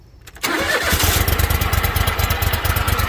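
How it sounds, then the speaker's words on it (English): A lawn mower engine catches and starts after a brief quiet moment, then settles into a steady, loud, close chugging idle as it warms up, with no talking. "Gonna let the mower warm up for a minute"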